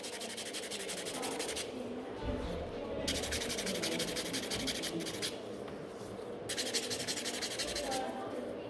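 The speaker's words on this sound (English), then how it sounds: "Just filing nicely in the middle." Nail file rubbing back and forth across the middle of a BIAB-coated almond nail, close and steady, in three long bursts of scratchy friction separated by quieter gaps with faint background.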